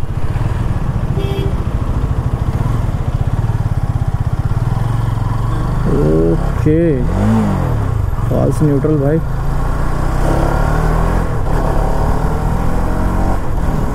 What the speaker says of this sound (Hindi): कंसीडरिंग सिंगल सिलेंडर मोटरसाइकिल काफ़ी बढ़िया सा साउंड कर रहा है